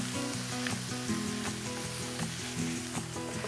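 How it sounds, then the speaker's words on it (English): Garlic sautés in a hot pan with a steady, close sizzle and light stirring scrapes, while music plays underneath. "Now I'm going to add in my garlic and saute this for about another minute."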